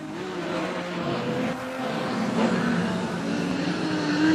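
Modified sedan race cars circle a speedway under caution lights, their engines blending into a steady, distant roar of droning revs with no commentary heard.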